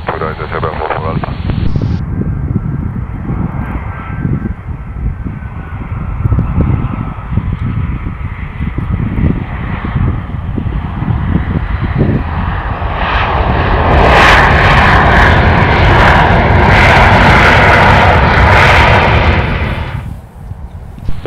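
Air Serbia airliner landing at Belgrade airport, a loud, steady jet engine roar that builds and swells into a heavy rush near the end, with tower radio talk over it.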